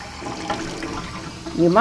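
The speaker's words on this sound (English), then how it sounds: "And 8 cups of warm water. And water out of the tap will just be fine." Warm tap water pouring from a faucet into a container for homemade yogurt, a short steady splashing stream that rises and brightens at the end as it fills.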